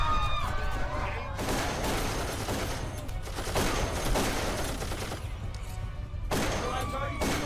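An automated turret in the game Darkest of Days fires in dense, loud bursts of rapid gunfire with short gaps between volleys, mixed with crashing impacts and a faint voice.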